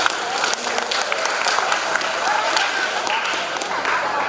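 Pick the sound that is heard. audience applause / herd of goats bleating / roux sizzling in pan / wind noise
audience applause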